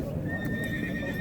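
Horses at a busy horse market, hooves clip-clopping steadily while a whinny rises over continuous crowd noise and background chatter, close and fairly loud throughout.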